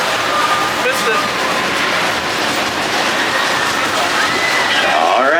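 An amusement park train at Silver Dollar City in Branson, Missouri rolls along its rails with a continuous loud rumble and clatter, with faint wheel squeal toward the end.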